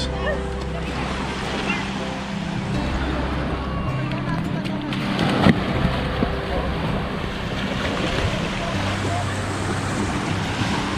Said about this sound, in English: The waves aren't that big today.